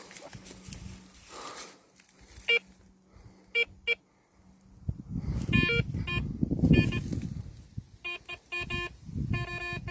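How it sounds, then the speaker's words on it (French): A detector is switched on outdoors in a small village cemetery, giving several short bursts of bright electronic beeps, with rustling and handling noise in between. "Je vais allumer le détecteur."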